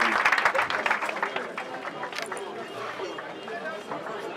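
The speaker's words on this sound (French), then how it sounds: "Est-ce qu'on peut les applaudir," An audience applauds a ballet troupe at a community event in the Bacongo district, a burst of clapping opening loudly then settling into a steady, slightly thinner patter under crowd chatter and speech.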